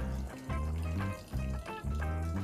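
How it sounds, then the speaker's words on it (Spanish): Water poured over the soil of a potted jacaranda bonsai until it runs out the drainage holes, a continuous close gurgling, splashing flow with uneven surges. "Vamos a hacer el riego, ya sabéis que el riego este es hasta que salga y el agua limpia,"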